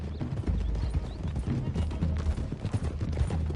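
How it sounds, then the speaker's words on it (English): Horse hooves clip-clop steadily over rough rocky ground in the Western video game Red Dead Redemption 2, a dense continuous trotting rhythm close by, with low rumbling game ambience underneath and no speech. "Can't you control that damn horse?"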